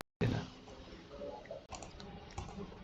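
Soft computer mouse clicks and light keyboard-like taps come in an uneven scatter at close range, with faint room noise and no voices.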